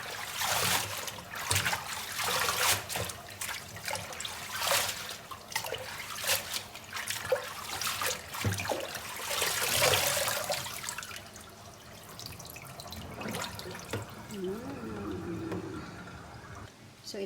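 Bitter gourd leaves are rinsed by hand under running tap water, with a steady trickle broken by repeated splashes and sloshing bursts, close up, easing to a quieter flow toward the end.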